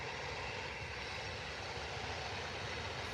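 A Singapore Airlines aircraft at Manchester Airport gives off a steady, broad engine roar from a distance, even and unbroken throughout, with no voices.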